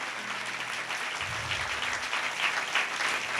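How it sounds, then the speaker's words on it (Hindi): Church congregation clapping hands loudly together, a dense, continuous wash of applause that swells toward the end, without any talking. "ताली बजाएंगे जोर से,"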